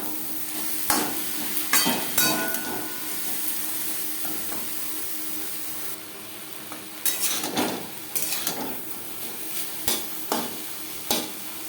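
Pumpkin greens and two slit green chilies get stirred in a pan, with a soft sizzle under repeated clinks and scrapes of a spatula against metal that come in bursts.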